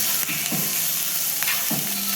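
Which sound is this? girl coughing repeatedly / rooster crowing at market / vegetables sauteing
vegetables sauteing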